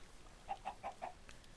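Four short, evenly spaced chicken clucks from the video game Minecraft, fairly faint and heard alone with no talking over them.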